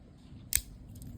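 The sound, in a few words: small scissors being handled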